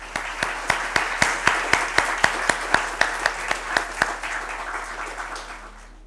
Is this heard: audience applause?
yes